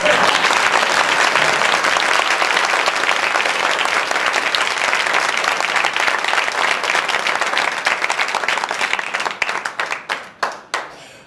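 Sustained audience applause at a religious celebration event for a swami, loud and dense for most of the stretch, then thinning into scattered individual claps and dying away near the end.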